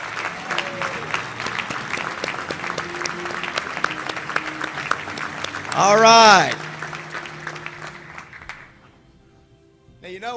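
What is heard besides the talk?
audience applause for family members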